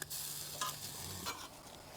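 French toast frying in a moderately hot pan gives a continuous soft sizzle, with a couple of brief rustling scrapes as the bread is set down, close and steady, no talking.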